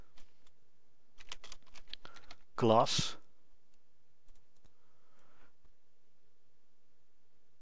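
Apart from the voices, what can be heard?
typing on a computer keyboard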